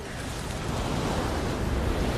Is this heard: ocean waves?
yes